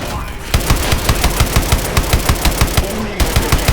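Rapid automatic gunfire from the Call of Duty: Advanced Warfare game, a steady rattling burst of evenly spaced loud shots that runs almost continuously, with a brief gap near the end before it resumes.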